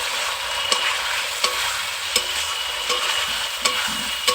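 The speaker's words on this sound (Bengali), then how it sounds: "একটু নাড়াচাড়া করে দেবো।" Chicken rezala being stirred in a pan: a continuous bright sizzle punctuated by five or six evenly spaced scraping strokes of the spoon, close and fairly loud, with no voices.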